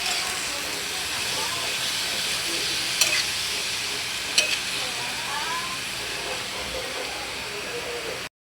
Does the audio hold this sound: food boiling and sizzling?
yes